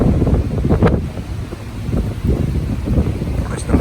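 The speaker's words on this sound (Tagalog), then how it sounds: "Lakas ng hangin, lamig." Strong, cold wind blowing across an open Alaskan shoreline with waves nearby, a steady loud rush buffeting the microphone with gusty swells throughout.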